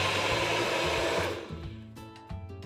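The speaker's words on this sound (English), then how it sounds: "doing coffee in a blender cup with a little bit of milk and maybe some protein powder" A blender whirs loudly as it mixes coffee with frozen banana and milk. The steady motor roar cuts off partway through, leaving a quieter hum and some soft knocks.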